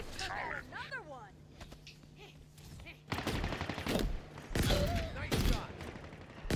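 Rapid automatic gunfire from a Halo Infinite firefight on Xbox Series X: dense, loud bursts that start midway and keep rattling to the end, with game voices and chatter heard underneath and before the shooting.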